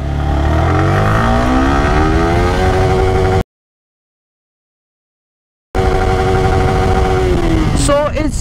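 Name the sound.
Yamaha R15 V3 motorcycle accelerating in first gear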